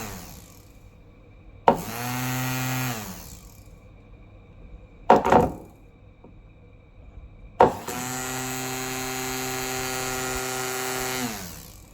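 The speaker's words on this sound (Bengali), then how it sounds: "দেখো মোটরটা কত জোরে ঘুরছে ধরে রাখা যাচ্ছে না" A 12 volt high speed DC motor spinning up in three separate runs, each a loud whine with a sharp onset and a strong harmonic pitch: a short burst, a very brief one, then a long sustained run before it cuts off.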